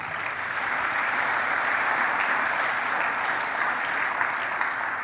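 Congregation applauding during a church sermon: dense, steady clapping from many people, loud and continuous throughout with no voices heard.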